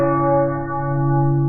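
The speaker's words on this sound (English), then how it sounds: "The national bell tolling scheduled for 11 a.m. local on November 11th" A church bell tolls in a single sustained, ringing stroke, its rich overtones hanging loud and close as part of a national bell tolling marking 11 a.m. on November 11th.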